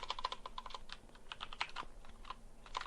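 Rapid, uneven typing on a computer keyboard as titles are entered, a steady stream of close, crisp key clicks with short pauses.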